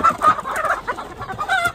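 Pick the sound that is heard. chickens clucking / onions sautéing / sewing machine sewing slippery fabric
chickens clucking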